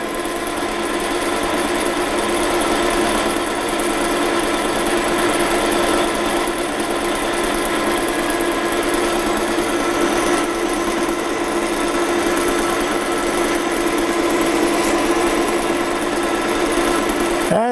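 A metal lathe cuts steel using cutting fluid, giving a steady, continuous mechanical whine and hum that holds level and loud throughout without pauses.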